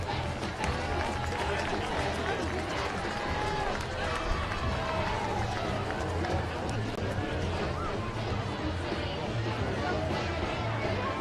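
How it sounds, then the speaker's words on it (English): Steady applause from a large crowd fills a high school football stadium in honor of the school's cross-country team, a dense, continuous patter with faint crowd chatter running beneath it for about ten seconds. "Another nice round of applause for your cross-country team"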